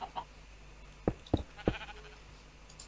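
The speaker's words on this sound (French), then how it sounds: "Il y a même un mouton" A Minecraft sheep bleats in three quick, distinct calls spaced about a third of a second apart, close and clear against a quiet game backdrop with no talking.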